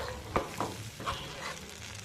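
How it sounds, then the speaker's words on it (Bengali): Cashew and melon seed paste stir-fried in a pan for paneer butter masala gives a brief, soft sizzle broken by a few light scraping strokes of a spatula, fairly quiet and close. "দেব কাজু চালমগজ বাটাটা, দিয়ে এটা ভালো করে আমি কষিয়ে নেব।"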